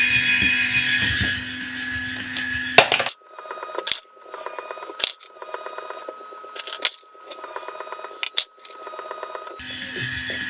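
Lapua brass cases are trimmed in a case prep machine: a high, whining cutter spins up close, with repeated cycles broken by sharp clicks and metallic clinks as each case goes in and comes out.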